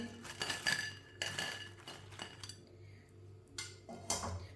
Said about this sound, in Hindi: पकौड़ों को छन्नी में डाल लेंगे। जो एक्स्ट्रा ऑयल है वो निकल जाएगा। इसे प्लेट में डाल लेंगे।